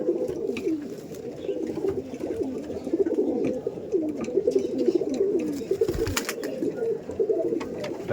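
Madrasi pigeons cooing in a loft, a dense run of overlapping low throaty coos that continues steadily up close, with occasional faint clicks and rustles.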